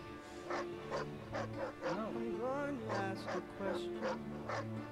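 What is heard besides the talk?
dog in the Mad Max video game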